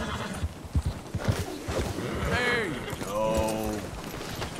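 Horse in the video game Red Dead Redemption 2, a white Arabian, gives two loud whinnies after a run of close hoof clip-clops, with a player talking over the start.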